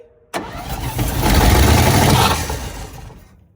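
A 1957 GMC 350 truck engine, carburetor suspected of a sticking valve, cranks and catches, then revs up high and loud before easing back down, close by with no talk.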